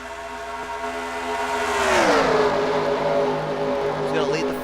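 Stock cars in a NASCAR video game at Talladega roar down the back straightaway, a loud sustained engine whine sweeping downward in pitch as the pack passes, continuous and close.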